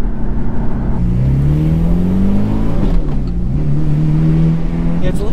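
A Ferrari F430 converted to a manual gearbox accelerates hard, its engine note rising in pitch, dropping at a gear change, then climbing again. The sound is loud and close, like from inside the cabin.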